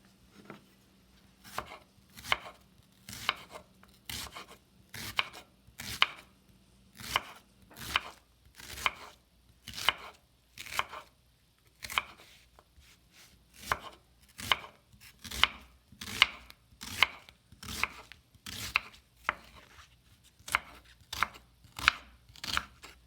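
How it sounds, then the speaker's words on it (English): A knife chops an onion into thin long strips on a cutting board, about thirty crisp strikes in an even rhythm with short pauses, close and clear with no talking. "Let's begin by chopping the onion into thin long strips."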